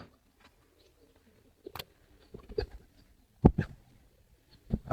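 Pigeons coo in a few soft, separate bursts close by in a loft, with quiet pauses between them.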